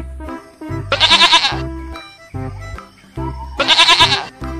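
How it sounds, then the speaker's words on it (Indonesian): A goat bleats twice, each call a loud, wavering, nasal cry lasting about a second, separated by low rhythmic background sounds. "Wah, ternyata ini kambing"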